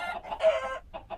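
Chickens cluck in the Minecraft modpack Fool Craft, several short close clucks in an uneven rhythm, loud and alone.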